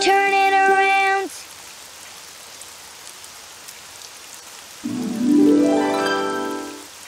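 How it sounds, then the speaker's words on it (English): Steady patter of rain on surfaces runs throughout, while a sung or hummed tonal voice rises at the start and again near the end. "Oh, it's raining outside."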